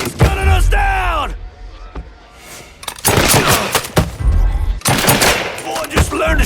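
Video game gunfire in Mafia III: loud bursts of shots and rapid automatic fire mixed with shouting voices and groans, heavy and close throughout.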